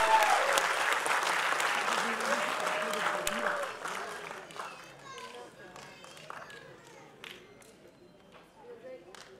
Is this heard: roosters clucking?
no